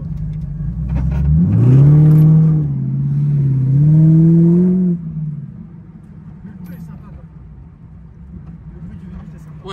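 A BMW M3 GTR engine in the video game Need for Speed Most Wanted revs up and holds a deep, raspy drone for several seconds, then drops away, while people talk over it.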